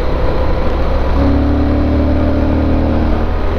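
A Yamaha Super Tenere touring motorcycle is throttled hard, its engine holding a loud, close, rising drone for a few seconds with no voices.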